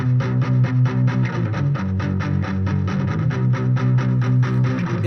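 Heavily distorted rhythm guitar chugging in a steady, driving pattern, dense and warm, played loud and continuous with no compression applied and no voices.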